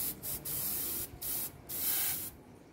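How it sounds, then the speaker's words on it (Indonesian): Spray gun laying down a car paint base coat in bursts, a steady loud hiss repeatedly starting and stopping with short gaps between passes, close up and with no voices. "pertama itu kita semprot dulu untuk dasarannya ya"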